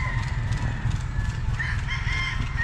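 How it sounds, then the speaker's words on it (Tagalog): Kakugi chickens and roosters from Cebu crowing and clucking in a farm yard, several birds calling over a steady low rumble of background noise. "yung mga manok lahat dito mga kakugi, yan yung mga manok niyan. Galing yang Cebu."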